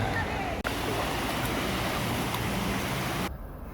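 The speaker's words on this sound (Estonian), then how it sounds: "Väsinud jalgu ootab mõnus merevesi." Sea waves wash onto the shore at San Sebastian, a steady, fairly close broadband rush of surf that holds for about three seconds and then drops away.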